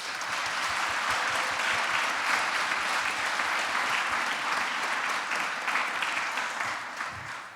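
A room of panel attendees applauds together, a sustained, even wash of many hands clapping that holds steady for several seconds before easing slightly at the end.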